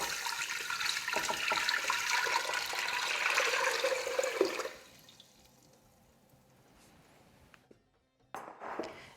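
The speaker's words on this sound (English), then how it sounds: "Then fill the pot with 8 cups of water." Water pours steadily into a large pot for salt brine, a loud rushing stream for about four and a half seconds, then it cuts off, leaving faint drips and quiet handling noises.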